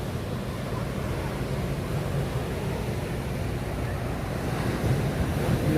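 Sea waves roll onto the beach at Visakhapatnam in a continuous, steady surf roar, with wind buffeting the microphone throughout.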